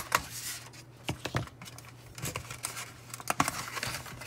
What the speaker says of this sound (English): I got these little ties here we can go ahead and cut.